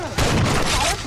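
Shotgun fire in Rainbow Six Vegas 2 co-op, a dense burst of booming gunfire lasting about a second, loud and close.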